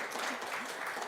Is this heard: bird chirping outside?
no